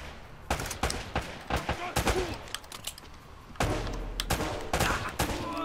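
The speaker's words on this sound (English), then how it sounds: "there's gunfire." Gunfire in the video game Uncharted: Drake's Fortune comes as sharp bursts of rapid shots, clustered volleys with short gaps between them, loud and close.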